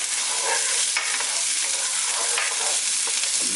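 Onions sautéing in a pan for a healthy breakfast burrito, a steady broadband sizzle with soft stirring scrapes, close and continuous with no talking.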